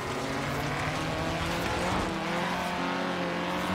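A race car in Forza Horizon 3 roars along and passes a Cobra Daytona, its engine holding a loud, steady drone with a light hint of tyre noise throughout.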